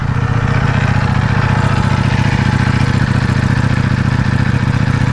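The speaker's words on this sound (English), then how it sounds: "turn these bikes on one by one and let you hear the exhaust note" A Ducati Streetfighter V4S motorcycle engine idles close by, its exhaust note a loud, steady, low pulsing rumble that holds constant throughout.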